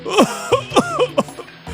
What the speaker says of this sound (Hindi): कांपते और खांसते हुए कहते हैं